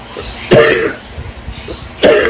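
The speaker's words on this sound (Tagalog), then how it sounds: "katulad ko, may ubo ko ngayon" A person with a cough gives two sharp, loud coughs close to the mic, about a second and a half apart, each ending in a short rough rasp, with quiet between them.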